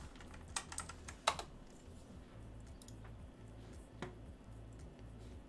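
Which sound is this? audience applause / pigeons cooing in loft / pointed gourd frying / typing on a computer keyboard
typing on a computer keyboard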